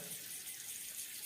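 Water runs from a wash basin tap in a house in a soft, continuous hissing stream, faint and steady throughout with no voices.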